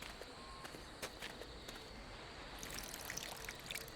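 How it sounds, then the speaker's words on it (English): Faint trickling water poured onto hard, dry earth beneath a broken paving stone in The Book of Unwritten Tales, a soft steady dribble over a quiet background. "The earth is sucking the water up like a sponge."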